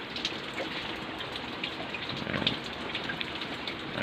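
Steady rain falls in Laguna during a typhoon, a dense, even hiss of drops on surfaces with no voices.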